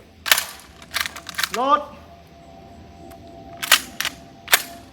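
A Mossberg 940 JM Pro shotgun fires buckshot at an outdoor target: a quick cluster of sharp, cracking reports, a short lull, then a second group of blasts, with some talk in the background.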